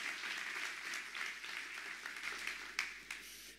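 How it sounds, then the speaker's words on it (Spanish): A church congregation applauds during a service, a steady, fairly faint wash of many hands clapping together with a couple of louder claps near the end of the burst. "Dale un fuerte aplauso al que vive."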